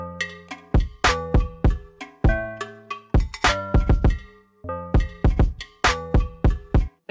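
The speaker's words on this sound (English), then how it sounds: "So what I added was this instrument called African bars" Bright, woody struck-bar notes play a bouncy melody over a punchy drum beat with sharp, rhythmic hits, clear and up front.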